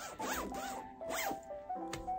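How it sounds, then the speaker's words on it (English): A zipper on a house coat is zipped in a few quick rasping pulls, close and clear, with short pauses between strokes. "Got the zipper."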